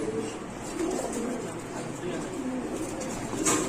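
A male pigeon at a fancy pigeon sale coos in low, repeated throaty phrases, close and moderately loud, with the broadband hum of a busy market around it and people talking nearby.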